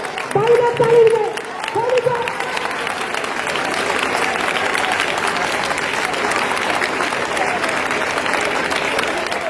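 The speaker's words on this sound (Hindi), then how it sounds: "ताली बजाएं, ताली बजाएं।" Congregation at an Easter Sunday church service breaks into sustained, even clapping that fills the room, with a raised voice calling out over the first two seconds before the applause carries on steadily.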